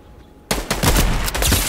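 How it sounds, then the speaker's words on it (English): A sudden loud gunshot from a sniper rifle in an online shooter game, a single sharp crack followed by a dense, rolling burst of echoing reports and rumble that continues to the end. "I just sniped him"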